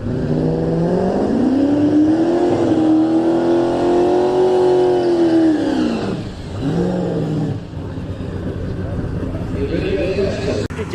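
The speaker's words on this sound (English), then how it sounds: "Let's see what this black turbocharged Chevrolet Camaro can do." Black turbocharged Chevrolet Camaro on a drag strip roars through a loud, sustained rising engine note that holds for several seconds, then drops away and briefly rebuilds, with a voice talking over it.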